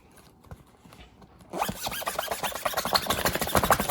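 Zipper on a Nintendo Switch Lite carrying case being worked: quiet soft rubbing at first, then a rapid run of loud, close, ratcheting zip strokes that grows busier toward the end.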